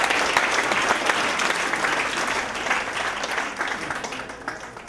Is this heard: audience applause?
yes